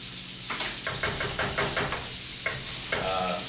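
Shiitake mushrooms sautéing in a pan, a steady close sizzle broken by a series of quick scraping stirs and light knocks of the utensil, with no talking.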